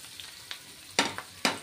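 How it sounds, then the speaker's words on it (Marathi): Pieces of rohu fish fry in oil on a pan over medium heat, giving quiet sizzling with a few sharp crackling pops close by. "तर आता आपण याला मीडियम गॅसवर तळू देऊ."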